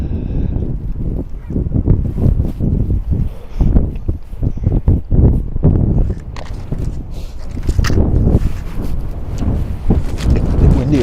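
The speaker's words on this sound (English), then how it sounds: "It's a bit windy over here too." Strong gusting wind at Woodbine Beach in Toronto in winter, buffeting the microphone in loud, uneven low rumbles that rise and fall over the whole stretch.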